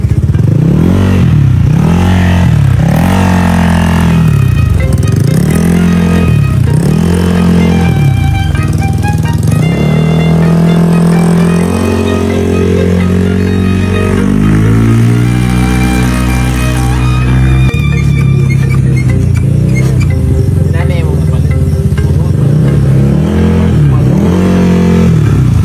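A motorcycle engine fitted with a reground cam and an oversized fuel injector runs steadily up close, its loud, continuous drone rising and falling in pitch with rhythmic revving throughout.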